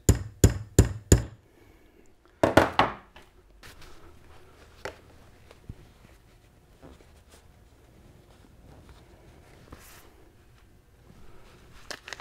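Four quick metallic hammer taps ring out as a part for a Toyota W58 five-speed transmission is gently tapped into place, then a short cluster of louder knocks, followed by quieter shop handling noises.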